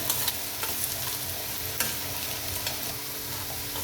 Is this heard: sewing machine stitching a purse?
no